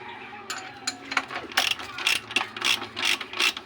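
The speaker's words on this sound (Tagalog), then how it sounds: "Tanggalin na natin yan, tapos nakita na natin gamit ang socket tsaka ratchet." A socket ratchet loosens a bolt on a Honda XRM 125 motorcycle, giving rapid close clicking bursts in irregular runs, loud and alone.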